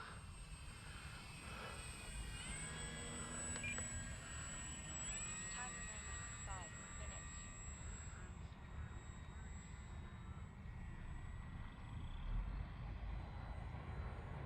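An FMS Ranger 1800mm radio-controlled model airplane flies past, its propeller motor giving a steady, distant droning whine that holds evenly throughout with faint background hiss and no speech.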